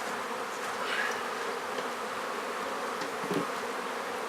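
Bees buzzing inside an opened beehive while the nest is expanded with a building box, a dense, continuous hum close to the microphone with no voices.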